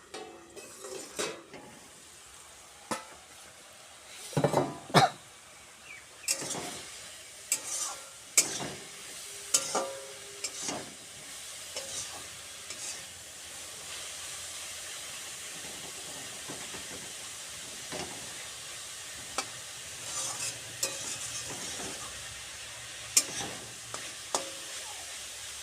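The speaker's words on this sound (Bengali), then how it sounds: "শাকটা একটু ভেজে নেব।" Pea greens fry in a pan over a steady soft sizzle and hiss, while a spatula stirs with irregular scraping clatters, busier early on and sparse later, heard close up.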